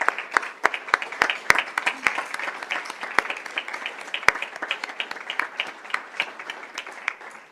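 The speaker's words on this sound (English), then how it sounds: "So, Mr. Malone, can you stand so we can give you a big round of applause for this achievement?" Audience applause at a Peoria Unified school district governing board meeting: a steady, full round of clapping from a room of people, with sharp individual claps popping out and no talking over it.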